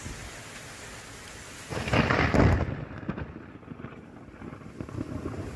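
Thunder from a severe storm in southern Ontario cracks into a loud, rolling boom after a steady hiss of rain, then fades back under continuous rainfall.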